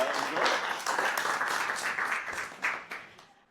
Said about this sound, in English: let's give a big round of applause to Dr. Doug